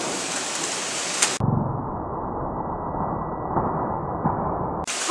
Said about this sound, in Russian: В Харьков пришел дождь. С грозой.